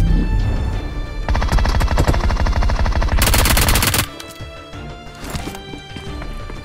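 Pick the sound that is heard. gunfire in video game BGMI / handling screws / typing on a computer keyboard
gunfire in video game BGMI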